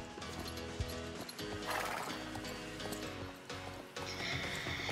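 An Andalusian horse in the video game Star Stable Online, with rhythmic clip-clopping hooves of a trot and a loud, close neigh, set against a game ambience.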